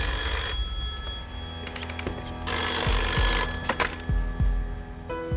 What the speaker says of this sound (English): This could be one of the most important phone calls that you've ever been involved in.